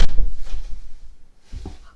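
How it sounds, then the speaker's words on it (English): A door shuts with a solid low thump at the start, followed by a fainter knock and a muffled rattle a moment later, close by in a quiet room. "I need to shut my door."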